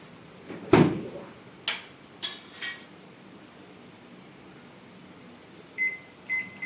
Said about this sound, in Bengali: এটা মাইক্রো ওভেনে দিয়ে